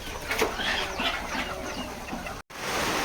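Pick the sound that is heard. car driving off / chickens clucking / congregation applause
chickens clucking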